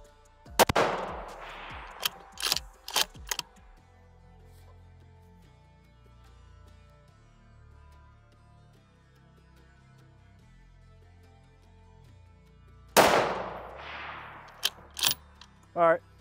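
A Ruger Precision Rifle in 6.5mm Creedmoor fires two loud, sharp shots about twelve seconds apart. Each report is followed by a few quick metallic clicks and clatters, with quiet background sound in between.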